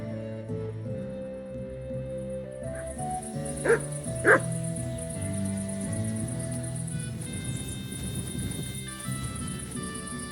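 A dog in Kingdom Come Deliverance II gives a couple of short yips and whimpers over layered in-game music, the barks brief and fairly close amid the soundtrack.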